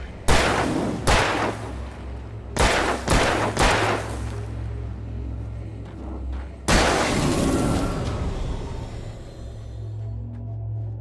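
Gunfire in the Alan Wake Remastered video game, several loud sharp shots in quick clusters with booming echoes, the last blast trailing off into a long reverberant decay.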